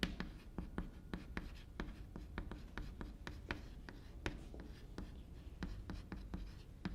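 Chalk tapping and scraping across a classroom board during a sociology lesson, a steady run of short sharp strokes with no talk, close and moderately loud.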